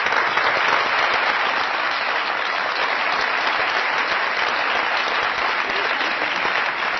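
Steady, dense applause from a studio audience on a Pakistani comedy talk show greets an actress, an even wall of clapping holding at constant strength throughout.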